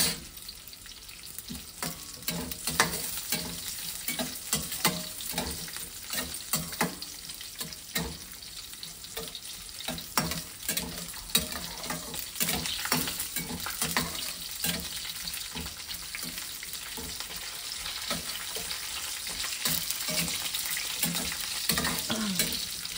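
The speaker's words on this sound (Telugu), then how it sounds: "జీడిపప్పు పచ్చి లేకుండా బాగా కొంచెం బాగా వేగనియాలి" Cashews fry and are stirred in a pan as part of making upma, a steady crackling sizzle with frequent scraping stirs running continuously at close range, with no talking.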